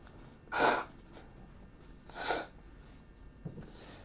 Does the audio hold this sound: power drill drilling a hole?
no